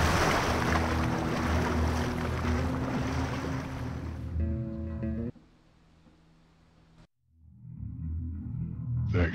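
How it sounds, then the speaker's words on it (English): A barge glides across water in the game Oddworld: Stranger's Wrath, with a steady rushing wash of water and engine drone that abruptly cuts to a quiet hum, falls silent, then swells back in. "Hop on the barge. I'll take you there."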